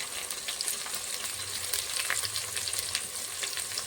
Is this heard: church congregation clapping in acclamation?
no